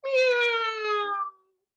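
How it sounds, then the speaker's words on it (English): A cat named Charlie lets out one long, drawn-out meow, close and clear, lasting over a second before cutting off into silence. "Charlie has the longest meow in the world."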